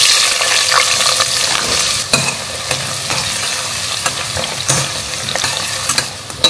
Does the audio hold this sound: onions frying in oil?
yes